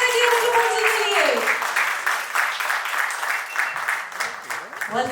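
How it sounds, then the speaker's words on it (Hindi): An audience at a film trailer launch event breaks into sustained, dense applause that fills the whole stretch, loud and steady with a voice faintly underneath. "जोरदार ताली हो जाएगी"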